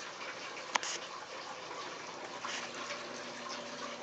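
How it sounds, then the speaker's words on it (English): Water trickles and splashes steadily from hanging baskets in a greenhouse, fed by tubing from a tank through a timer and distribution system. It makes a continuous soft wash with one brief sharp drip-like click near the start. "water's dripping out of the hanging baskets I have hanging along this bar"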